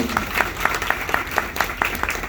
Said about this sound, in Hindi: जोर से इनके लिए ताली बजाओ।